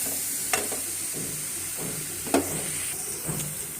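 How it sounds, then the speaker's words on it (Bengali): Red amaranth greens stir-fry in oil in a pan with a steady soft sizzle, broken by a few sharp scrapes of the spatula against the metal, and no talking. "আমার লাল শাক ভাজি করা শেষ"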